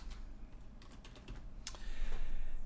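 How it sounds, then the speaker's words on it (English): Keys clatter on a computer keyboard while text is typed into an After Effects composition: a quick, uneven run of close, soft keystrokes that grows slightly louder toward the end over a low room hum. "let's just type in some text"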